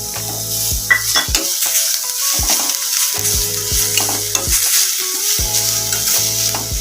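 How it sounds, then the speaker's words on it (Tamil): Vermicelli, sago and carrot sautéed in ghee, sizzling steadily in a pan while a spoon stirs and scrapes with repeated metallic clinks, close and continuous. "கேரட்டும் வதங்கணும், கொஞ்சம் அந்த நெய்யிலே வதக்கிடலாம்."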